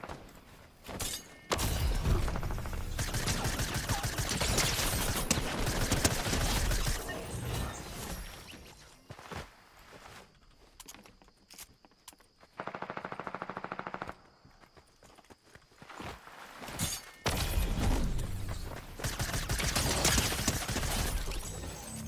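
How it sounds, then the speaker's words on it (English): Bursts of gunfire in the Fortnite video game battle, loud clustered volleys at the start and end with quieter scattered shots in between, no talk. "People are shooting that way and this way."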